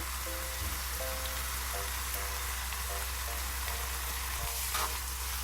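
Kimchi rice with sugar being stir-fried in a pan, a steady close sizzle with faint spatula scrapes, heard alone with a low hum underneath.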